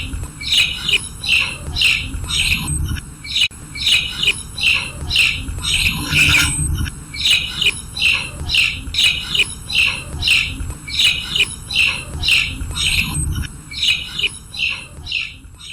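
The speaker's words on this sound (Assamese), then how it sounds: "এই মাতটো চুতীয়া শালিকাৰ।" A myna calls in a rhythmic series of harsh, squawking notes repeated every half second or so, loud and close, with occasional lower rumbling noise underneath and no voices.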